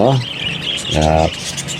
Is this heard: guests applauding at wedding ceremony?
no